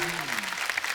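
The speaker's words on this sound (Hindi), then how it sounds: "जोरदार तालियां" Brief burst of studio audience applause on a Hindi comedy talk show, a dense crackle of many hands with a voice trailing off underneath at the start.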